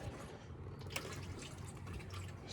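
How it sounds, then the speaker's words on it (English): Distilled water pours from a gallon bottle into the coolant reservoir of a 2008 Ford Ranger 2.3L, making a faint, steady splashing trickle with a few louder drips. "I'm going to dump one of these distilled water gallon bottles"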